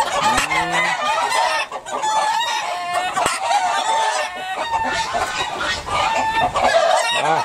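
A flock of chickens clucks loudly and continuously up close inside a chicken coop, with a rooster crowing near the start and more excited squawks throughout.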